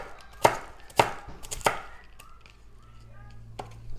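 A kitchen knife chops cabbage slice by slice on a board while preparing egg roll filling. Three sharp, close, evenly spaced chops come first, then one lighter cut, with no talking.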